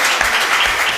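Brief burst of dense audience applause at a tech transfer conference in Cyprus, an even wash of clapping.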